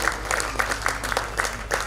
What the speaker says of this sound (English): I think we need to give a big round of applause